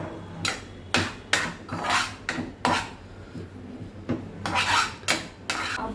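Metal pot lid lifted and clattered while checking fasting idli batter cooking on the stove, several sharp metallic clanks and scrapes in irregular bursts, close by.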